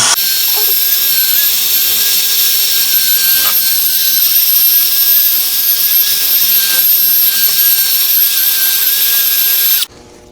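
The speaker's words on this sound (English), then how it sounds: "But this right here, all this rust and everything, I'm just gonna try to get something to clean that up. Whatever you got, really. Wire wheel." A wire wheel grinds steadily at close range on rusty steel, scrubbing corrosion off a wheel bearing assembly from a Chevrolet TrailBlazer. The shrill, continuous whine runs unbroken for about ten seconds, then cuts off abruptly.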